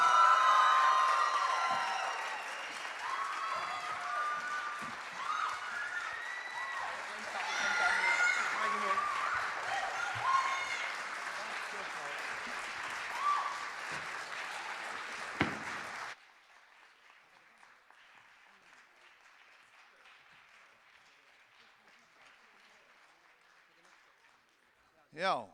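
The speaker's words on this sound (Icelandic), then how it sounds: "Gefum þeim gott klapp." Applause and cheering from a crowd after a band's set at a youth music contest, loud and sustained for about fifteen seconds, then dropping abruptly to a faint murmur.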